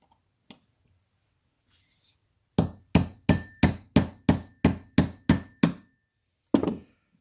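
Sharp metallic hammer taps driving out the left extractor pin of a Remington Model 31, nine evenly spaced ringing strikes in a steady rhythm, then a pause and one final blow, close and clear with no talk.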